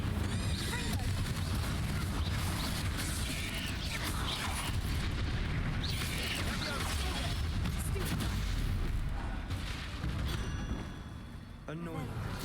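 Confringo blasting-spell explosions in Hogwarts Legacy, a busy stretch of booms, crackles and mechanical clatter layered over game music and effects, continuous and fairly loud, with a voice speaking in places.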